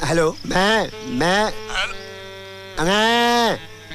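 Loud, close goat bleats come in four drawn-out, wavering calls with short pauses between them, the last one long and strong.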